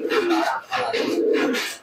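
Pigeons, Teddy and Malbai breeds, coo in a few close, loud, rolling calls one after another with no other sound around them.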